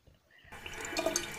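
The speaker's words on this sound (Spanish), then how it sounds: "Puse el grifo hacia arriba e hice que salga un montón de agua, como una cascada." A tap turned up high so that lots of water gushes out, a sudden rushing splash that swells after a brief near-silent start and grows louder toward the end.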